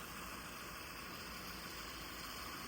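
A Subaru Forester 2.0 4x4 automatic idles quietly and steadily, a faint, even engine hum with no revving and no voices.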